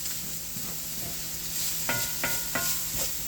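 Taco filling in a pan gives a low sizzle beneath several distinct stirring scrapes, three spoon strokes clustered near the end, close and fairly quiet with no voices.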